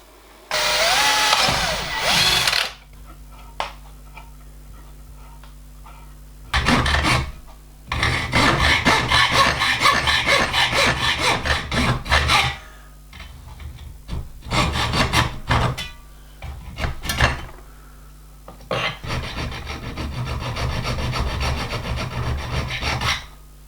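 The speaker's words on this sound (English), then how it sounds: "So I think we'll just drill for a little grip screw and put a slot in the pin." Metalworking on a hand vice pin, drilling for a small grip screw and sawing a slot: bursts of harsh rasping and grinding separated by pauses, close and loud over a low steady hum.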